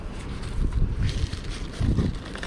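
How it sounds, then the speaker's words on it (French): Wind blowing outdoors on a sunny day buffets the microphone in uneven gusts, rushing and rumbling with two stronger swells, fairly loud and close, with no speech. "Il y a du vent aujourd'hui, il fait beau mais il y a du vent."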